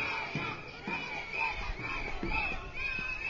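A street protest crowd against closing a seaside promenade, led by children, chants and shouts in a rhythmic repeated cadence, a dense mass of voices echoing in an open town square.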